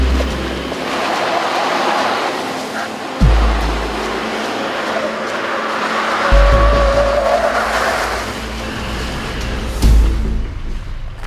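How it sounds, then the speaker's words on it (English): A dually pickup truck, likely a 2015 Chevy Silverado, does a burnout, its engine roaring loud and close while tires squeal and scrub with surging peaks. "Only us Americans know how to do burnouts and dualies."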